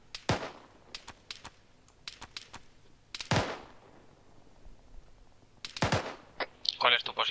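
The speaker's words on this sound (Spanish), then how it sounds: "Que solo escucho disparos" Sharp gunshots crack in scattered bursts in the video game Arma 3, some single and some in quick rapid-fire volleys, with a few louder close shots among fainter distant ones.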